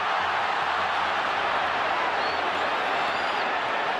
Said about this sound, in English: Huge relief for the Spanish crowd.